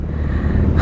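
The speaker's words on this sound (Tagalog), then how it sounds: "Sasagupahin ko muna itong matinding traffic dito sa may C5." Heavy road traffic on C5 in Manila during the Christmas rush, a steady dense rumble of car and truck engines close by, with a brighter swell of engine noise near the end and no talking.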